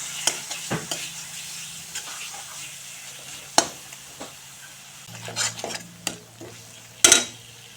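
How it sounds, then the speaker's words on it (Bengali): Ground spices fry with rohu fish curry in a pan, a soft steady sizzle under repeated clinks and scrapes of a spoon stirring against the metal, close and fairly quiet, with no voice. "দিয়ে দিচ্ছি ধনে গুঁড়া এবার দিয়ে দিচ্ছি লঙ্কা গুঁড়া সব কিছু দিয়ে এভাবে"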